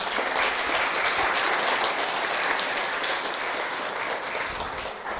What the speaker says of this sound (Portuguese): Não pode dar um aplauso a Jesus?